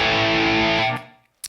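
A heavily distorted electric guitar chord with low output pickups, through a Two Notes Opus amp simulator with room reverb, rings out thick and chunky, then cuts off abruptly into silence, followed by a brief pick scrape.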